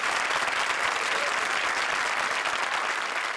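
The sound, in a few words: loud audience applause on comedy show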